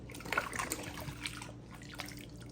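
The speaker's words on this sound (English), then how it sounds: "We're going to pour in our 200-degree hot soapy water." Hot soapy water at 200 degrees poured into a mix while building a Taylor RC 40GT, a steady liquid trickle and splash running close by at moderate level throughout.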